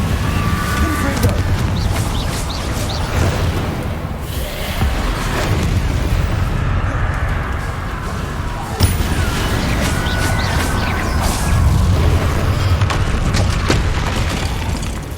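Confringo spell explosions in Hogwarts Legacy rumble loudly over dense combat noise, a sustained booming wash with a sharper blast midway, while someone talks over it.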